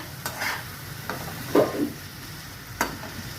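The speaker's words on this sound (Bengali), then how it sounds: "কষা হবে ভালো করে। স্টপ করব। এই দেখুন কষাতে তেল ছেড়ে দিয়েছে।" Spice masala fried and stirred in oil in a pan, with a steady low sizzle and a few scraping stirs of a spatula, close and fairly quiet, no talking.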